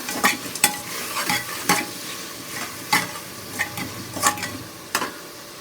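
Onions and tomatoes sautéing in a pan for prawn biryani, a close frying sizzle broken by frequent sharp spatula scrapes and taps in an uneven rhythm.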